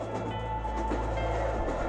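Steady low rumble of a moving train, a continuous mechanical drone with a faint hum and rattle throughout.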